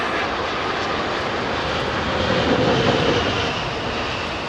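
An Airbus A380's jet engines idle at London Heathrow Airport with a loud, steady whine and broad roar that swells slightly midway and never breaks.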